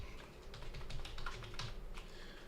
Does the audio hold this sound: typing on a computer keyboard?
yes